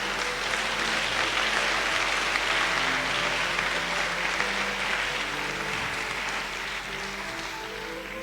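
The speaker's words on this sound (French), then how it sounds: "Acclamons pour la parole du Seigneur." Church congregation applauding together, a dense, steady roar of clapping from many hands that carries on evenly and eases slightly toward the end.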